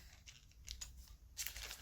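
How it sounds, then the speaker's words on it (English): Faint, close snips of small scissors trimming loose thread ends after sewing Velcro onto a fabric snack bag, a few quick cuts in quiet surroundings. "So just trim off your loose ends."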